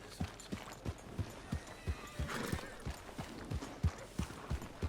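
Hooves of a horse in Red Dead Redemption 2 clop in a steady, fairly close walking rhythm, with soft ambient game noise around them.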